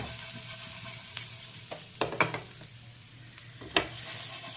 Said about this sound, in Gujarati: હવે આને થોડુંક ફેરવતા રહેવાનું